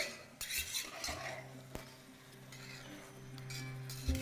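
A metal spatula scrapes and taps against a pan while chicken pieces are stirred over medium heat, soft scraping and a few sharp clinks over a faint sizzle, quiet and close.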